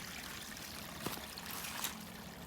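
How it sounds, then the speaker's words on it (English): A tiny forest creek trickles in a steady, soft, faint wash of water with no other sounds around it. "Just a tiny little creek,"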